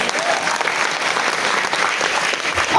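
Audience giving loud, sustained applause for the boss at a business gathering, dense even clapping from a crowd throughout.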